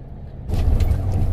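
Busy traffic on National Route 1 in Shiga, a single-lane road: after a quiet moment a vehicle surges past close by with a loud, broad rumble that carries on to the end.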